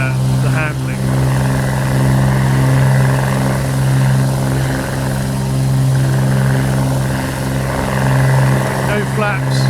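Black Square Commander 114, a twin-piston general aviation aircraft in Microsoft Flight Simulator, taking off with no flaps: a steady, loud engine and propeller drone that holds evenly throughout, with no talking.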